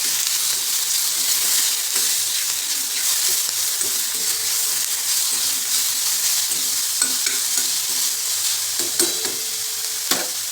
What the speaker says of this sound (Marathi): सर्व भाज्या आपल्याला फुल फ्लेमवरती छान क्रिस्पी होतील अशा परतून घ्यायचं